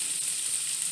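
Partly microwaved cabbage sizzles and fries in a frying pan, a steady, close hiss with faint crackle throughout and no talking.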